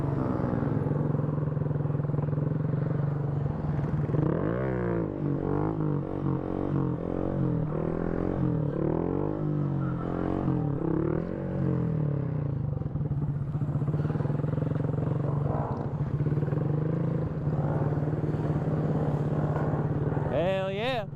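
Motorcycles idling and revving as riders practice wheelies, including a Honda Navi, with a steady engine drone and repeated throttle swells, and a voice talking over it.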